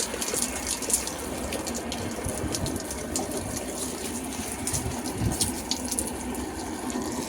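Water gushes steadily from a hose or tap while plants are watered outside a house, a continuous, close, fairly loud rush of splashing flow with no talking.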